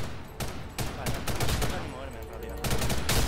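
Rapid bursts of automatic gunfire from the free-to-play shooter video game Ghost in the Shell, loud and repeated in quick volleys with short gaps between them.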